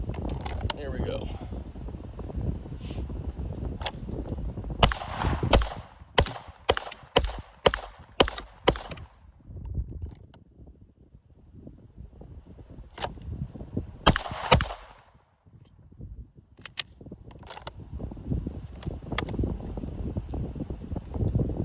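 Pistol shots from a handgun fitted with a Radiant Afterburner compensator ring out outdoors: a rapid string of sharp cracks, then a few more after a pause, with wind noise and someone talking between strings.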